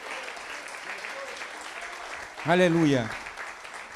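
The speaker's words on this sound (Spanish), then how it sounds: "Él merece ese aplauso." A church congregation applauds for Jesus in a steady, sustained patter that runs throughout, while a voice calls out over it and briefly rises above the clapping.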